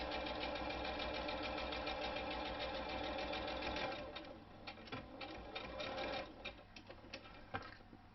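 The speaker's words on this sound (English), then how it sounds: "always do mine by machine, it's quicker." A sewing machine stitches around the edge of a fabric tablet cover with its lining, giving a steady, close mechanical whir for about four seconds that then breaks into shorter, stop-start bursts of stitching.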